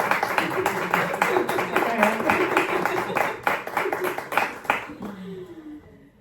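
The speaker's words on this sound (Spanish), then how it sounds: "Un aplauso, ¿no?" A group claps in a quick, even rhythm for several seconds before the applause fades out, with a voice briefly heard near the end.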